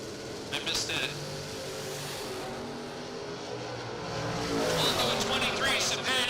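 Mopar pro stock drag race car at a drag strip, its engine roaring steadily and swelling louder toward the end over crowd and announcer noise, with voices talking throughout.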